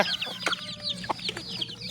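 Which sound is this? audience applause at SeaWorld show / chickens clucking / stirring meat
chickens clucking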